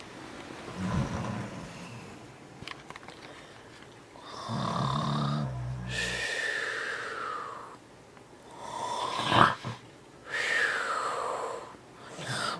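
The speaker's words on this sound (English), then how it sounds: "Stop snoring." A pet snores at night in a home, with several slow, rough breaths and snorts, some louder and wheezier than others, heard up close in a quiet room.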